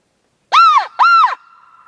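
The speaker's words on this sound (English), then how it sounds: "Two birds gobbling back." Two Merriam's wild turkeys shot-gobble back in quick succession at a crow call on a New Mexico roosting slope, each gobble a loud rattling burst, the pair clear against a quiet evening.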